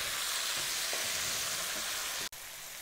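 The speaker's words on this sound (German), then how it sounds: "kräftig umrühren und dann mit dem Röstgemüse zusammen ungefähr nochmal 10 Minuten braten" Roast vegetables frying steadily in a hot pan for gravy, a continuous close, loud sizzle with faint stirring scrapes, cut off abruptly near the end.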